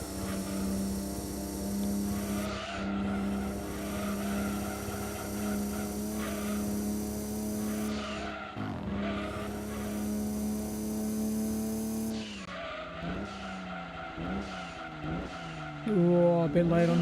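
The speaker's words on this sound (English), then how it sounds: "Skidding in the corners." Race cars in the Gran Turismo 2 PlayStation game at Grand Valley, an engine's sustained high whine rising and falling through gear changes with tire squeals skidding through corners, loud and continuous.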